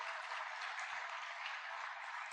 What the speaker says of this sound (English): you guys have to really give a very, very loud round of applause for yourselves